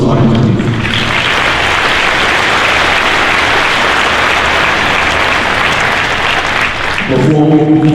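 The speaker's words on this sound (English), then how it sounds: "Round of applause for those sergeants, please." Loud, sustained applause from an audience at an LAPD cadet ceremony, honoring a group of sergeants, a dense wash of clapping that runs steadily for several seconds before fading as a voice begins to speak.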